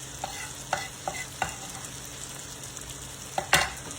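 Tomatoes sizzle on a hot griddle while a spatula scrapes across it in short, repeated strokes, closing with a louder scrape over a steady frying hiss.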